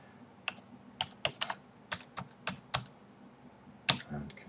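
Keys clack on a computer keyboard as a password is typed, a dozen or so sharp, close clicks in an irregular rhythm with short pauses, in a quiet room.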